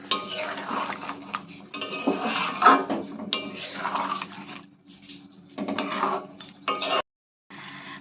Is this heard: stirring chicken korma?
yes